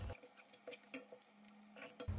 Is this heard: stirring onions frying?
yes